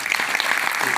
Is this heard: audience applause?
yes